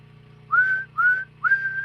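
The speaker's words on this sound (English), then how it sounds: "Now try to whistle and let's see how." A person whistles three short rising notes close to the microphone, each held briefly with small gaps between them.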